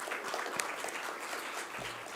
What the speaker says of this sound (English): A warm round of applause, please, for SATO.